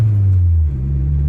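Idling engine of a rebuilt GSX car nicknamed the Black Rose, built up from a bare shell with parts taken from an Eclipse. It gives a loud, close, steady low rumble that dips slightly midway.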